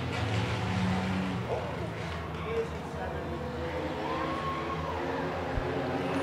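High school race cars racing on a track during a feature race, a continuous loud drone of several engines that rises and falls as the cars pass, with a commentator talking over it.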